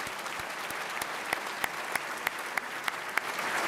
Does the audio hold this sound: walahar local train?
no